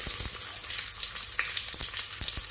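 Garlic fries in hot oil as it is stirred until golden, making a bright crackling sizzle with scattered pops and light scraping, fairly quiet and close.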